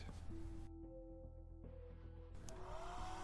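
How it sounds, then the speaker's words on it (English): A hair dryer heating decals on a 1/12 scale Kawasaki Ninja H2R model whirs steadily and quietly, its motor hum shifting pitch as it blows. "It can help if you heat decals with a hairdryer."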